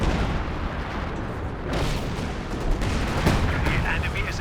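Artillery airburst shells fire in a Company of Heroes 2 match in a steady rumble of battlefield booms and crackling bursts, while a commentator talks throughout.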